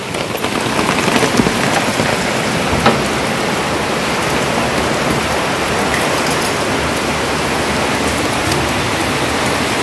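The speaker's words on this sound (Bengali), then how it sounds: "রে বাবা বৃষ্টি বৃষ্টি বৃষ্টি।" Heavy rain pouring down outdoors, a loud, dense and continuous hiss of drops striking surfaces that holds steady throughout.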